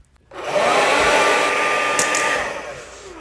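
Hair dryer switched on and blowing, a loud steady whoosh with a motor whine that kicks in abruptly and runs for a few seconds before easing slightly.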